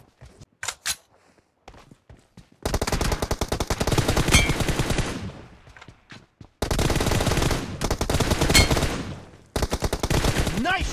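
Bursts of automatic M416 rifle fire in a one-on-one shooter video game match, loud rapid volleys separated by short single shots and brief pauses, with no talking.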